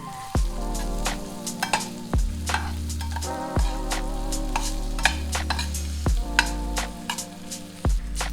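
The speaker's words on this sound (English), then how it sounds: "To this, add 1 thinly diced onion and mix." Diced onion hits hot oil with crushed garlic and cumin seeds, sizzling loudly while a spoon stirs and scrapes the pan in repeated strokes; the frying hiss carries on steadily without talk.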